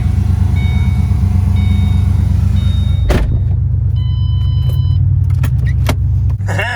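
A car engine rumbles low and steadily up close. A sharp click and clatter come midway, and faint tones ring briefly above the engine.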